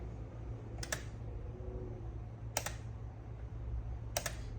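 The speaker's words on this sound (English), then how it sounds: "So I'll hit test, and then hit reset, and you'll hear it trip immediately." A GFCI plug on an electric pressure washer clicks three times as it is tested, reset and trips again. The sharp, evenly spaced clicks sound over a steady low hum.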